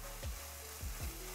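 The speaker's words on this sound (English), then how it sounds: "You can see the oil is separating. Masala is frying really nicely." Masala frying in oil for omelette curry, a steady close sizzle with a few quick stirring scrapes in the pan, no voices.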